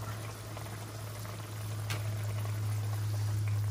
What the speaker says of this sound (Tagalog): ilalagay na natin yung atay na may suka.